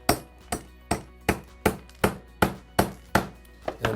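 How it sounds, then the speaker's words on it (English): A framing nail hammered into wood, nine sharp, evenly spaced hammer strikes ringing out close and loud, each with a bright crack and short decay, no voices. "Simple little trick is you take your framing nail"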